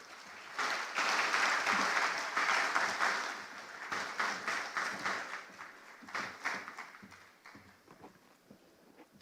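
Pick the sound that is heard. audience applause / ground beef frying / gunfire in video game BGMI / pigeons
audience applause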